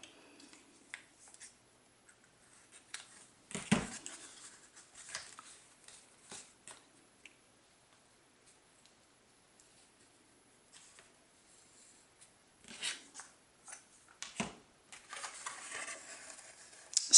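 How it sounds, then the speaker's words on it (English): Scissors snip through ribbon at a card-making table, a few sharp, dry cuts spaced apart, with quiet rustling and handling of paper and ribbon between them. "don't tie a bow, just cut it off."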